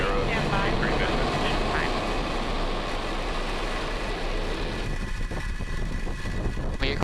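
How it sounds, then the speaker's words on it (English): A SpaceX Falcon 9 rocket lifts off from Vandenberg on the EROS C3 mission, a loud, continuous broadband roar that holds steady throughout, with commentary voices talking over it. "Ignition and liftoff. We have Falcon 9 and the EROS C3 mission."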